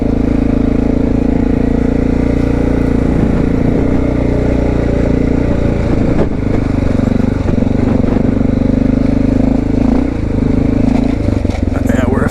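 Honda XR650L motorcycle riding through snow and across a stream, its engine a loud, continuous close drone with steady low thrum and intermittent clatter and splashy noise throughout.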